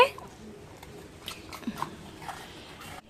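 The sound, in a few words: dog chewing biscuits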